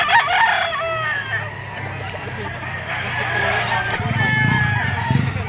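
A rooster crows loudly at a Lipa, Batangas poultry market, its long call rising above a steady murmur of birds and crowd noise, with other fowl clucking nearby.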